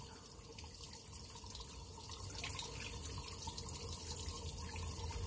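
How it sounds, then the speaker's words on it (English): Coolant flushes out of the engine block of a 1991 Suzuki Carry mini truck with an F6A engine, a steady faint hiss of running water that grows slightly stronger partway through, with no voices. "How to flush the coolant in a mini truck."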